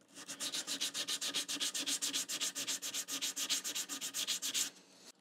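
Steady back-and-forth rubbing as brass frets on a stringed instrument are polished, about two strokes per second in a quick, even rhythm, close and loud, with no talking, stopping abruptly near the end.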